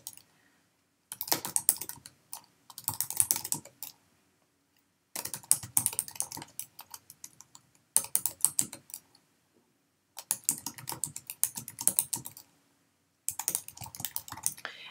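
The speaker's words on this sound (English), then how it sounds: "you're going to type in the words" Bursts of rapid typing on a computer keyboard, several runs of quick clicking keystrokes separated by short pauses, close and clear with no talking.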